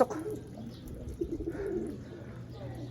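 A racing pigeon arriving at its loft after a 349 km race from Matnog, Sorsogon, gives soft close cooing with light fluttery sounds in a quiet setting.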